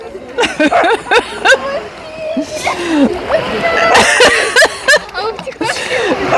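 People swimming at Lanzheron beach, splashing water close by in irregular bursts while voices talk and laugh over the top.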